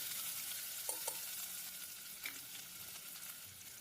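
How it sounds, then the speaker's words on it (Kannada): Sliced onion frying in a little oil for a jackfruit-seed sambar, a quiet steady sizzle with a few soft stirring clinks and taps, no voices. "ಈರುಳ್ಳಿನ ಸೇರಿಸಿ ಆದಮೇಲೆ ಒಂದು ಅರ್ಧದಿಂದ 1 ನಿಮಿಷ ಈರುಳ್ಳಿ ಸ್ವಲ್ಪ ಎಣ್ಣೆಯಲ್ಲಿ ಫ್ರೈ ಆಗಬೇಕು"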